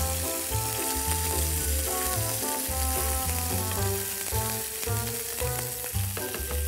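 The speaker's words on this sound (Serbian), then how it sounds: "čujete kako piletina pevuši" Meat sizzles in a frying pan with a constant hiss, partly masked by loud background music with a steady beat.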